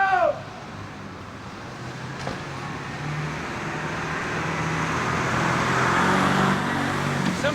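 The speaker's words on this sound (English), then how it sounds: "Fire trucks going by." Fire trucks drive past on a film set road, a broad rumbling roar of heavy engines and traffic noise that swells gradually as the vehicles come closer, with no sirens standing out.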